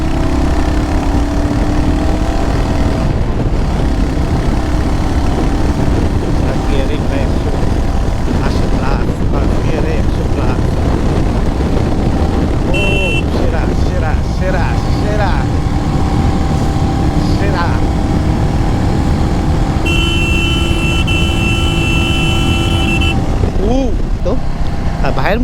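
A Royal Enfield motorcycle engine revs and drones steadily while being ridden, a loud continuous roar mixed with wind rush, and a voice talks over it throughout.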